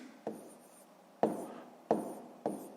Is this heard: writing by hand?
yes